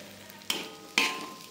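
Sambal kering with salted fish, fried torch ginger flower and fried shallots being stirred in a frying pan: two short scraping, sizzling strokes of the spatula over a faint background hiss, with no talking.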